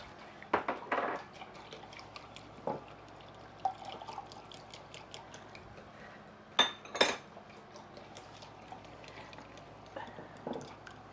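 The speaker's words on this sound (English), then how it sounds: "So we're going to whisk all this together" A whisk clinks and taps against a bowl while dressing for a cold Thai salad is mixed, faint irregular metallic chinks with a few sharper clatters, close by in a quiet kitchen.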